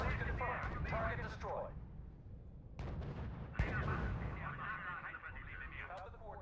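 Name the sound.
artillery shell firing in video game R.U.S.E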